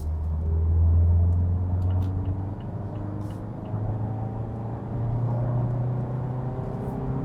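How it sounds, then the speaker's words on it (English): Inside a 2021 Mazda CX-3, the naturally aspirated engine pulls in third gear from 60 to 100 km/h, a muffled, droning hum whose pitch climbs slowly and steadily. "here 60 kilometers to 100 in third gear"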